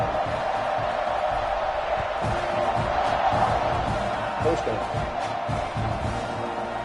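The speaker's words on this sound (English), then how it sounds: "this crowd is buzzing after that last score" Football stadium crowd buzzes loudly after a score, a dense continuous roar with scattered cheers under a play-by-play announcer talking.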